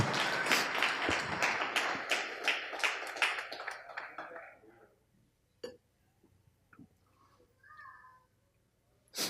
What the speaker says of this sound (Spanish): Denle un aplauso al Rey en esta hermosa y linda tarde.